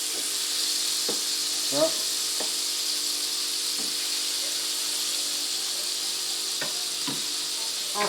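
Butter sizzles steadily in a pan before burger meat is added, giving a constant loud hiss with a few small clicks and a brief spoken word.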